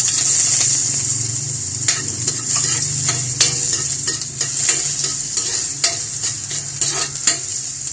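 Ginger sautéing in a little oil in a pan, a steady close sizzle of frying with frequent scrapes and taps of a spatula stirring throughout, loud and continuous with no talk.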